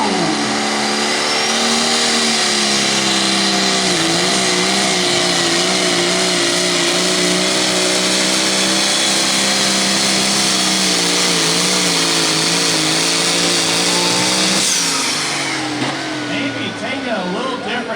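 A pulling tractor engine in an 8,500 lb Limited class at a tractor pull roars loud and steady as it revs and strains down the track, with a crowd and announcer underneath before it fades near the end.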